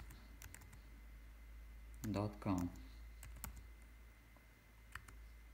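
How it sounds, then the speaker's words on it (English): Light clicking of computer keyboard keys as a website address is typed, sparse and quiet taps spread across the moment, with a voice speaking briefly in the middle. "type to your search bar here monect.com"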